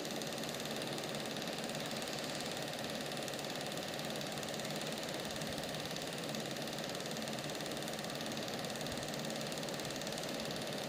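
A homemade brushless DC motor runs from a homemade controller, giving a steady, dense mechanical hum with a fine rattling buzz that stays constant and fairly loud throughout, with no talking.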